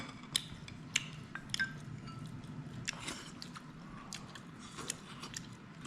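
Someone eats fish from a spicy fish stew, with soft close chewing and wet squishing, plus occasional light clinks of utensils against a bowl and a quiet room murmur in the background.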